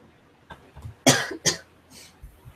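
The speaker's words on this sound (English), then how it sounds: "I'm trying to cough away from the mic." A person coughs a few times, turned away from a podcast microphone, with two strong close bursts and softer throat sounds around them in a quiet room.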